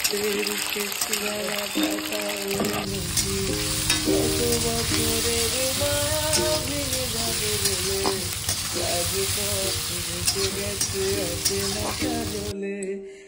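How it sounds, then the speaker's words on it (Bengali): Potatoes fry in a pan with a steady sizzle and occasional stirring scrapes, heard up close beneath a song with singing that plays throughout. "ফার্স্টে আমি এখানে একটু আলুটাকে ভেজে নিলাম"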